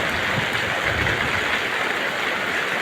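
Heavy typhoon rain pours down during Typhoon Aghon's landfall in Cavite, a dense, steady roar of water that stays loud and unbroken throughout.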